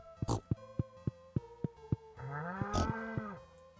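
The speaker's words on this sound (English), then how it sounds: "Mewing cows, am I right?" A cow moos loudly and close, a drawn-out low call near the end, preceded by a run of short, evenly spaced knocks or thumps.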